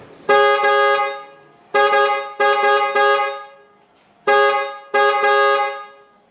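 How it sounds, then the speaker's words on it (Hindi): A trumpet horn on a Maruti Suzuki Brezza honks in short bursts: one blast, a pause, three quick honks, another pause, then two more, loud and close with no other sound. "अब हॉर्न की आवाज़ भी सुन"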